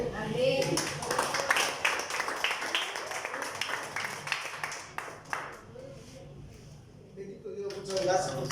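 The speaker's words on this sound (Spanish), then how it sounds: "Vamos a darles un aplauso a la palabra de Dios." A church congregation claps in a burst of applause for several seconds, fairly close, then fades out while speech continues over and after it.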